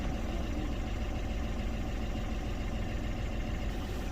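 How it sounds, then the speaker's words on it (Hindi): Tata Tiago diesel engine idling steadily at around 800 RPM during a major service, a continuous low rumble close by with no talk over it. "इंजन सर्कल स्पीड 800 RPM चल रहा है"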